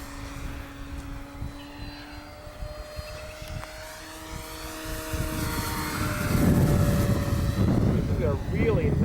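A Durafly Cessna 182 RC model airplane on its maiden flight hums with a steady electric propeller whine in gusty wind, the motor tone holding level and then swelling louder and rougher as it nears.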